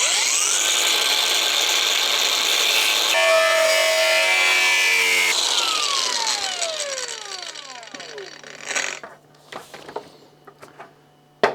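Loud, sustained grinding and rasping of a Saab 900 Turbo's sheet metal panel being cut, with shifting pitched screeches, then tapering into several short scraping bursts and clanks.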